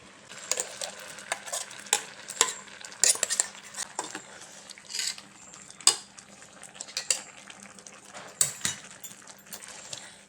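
Ground coconut and shallot paste goes into a jackfruit seed curry with cucumber and green mango and is stirred, with sharp spoon clatters and scrapes against the pan in uneven bursts over a faint sizzle, close up, no voices.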